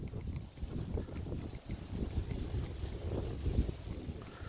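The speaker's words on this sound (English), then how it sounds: "you'll have to excuse the blowing because I can't control the wind" Outdoors in a church graveyard, wind buffets the microphone, producing continuous low rumbling gusts that swell and ease, loud and close with no other clear sounds.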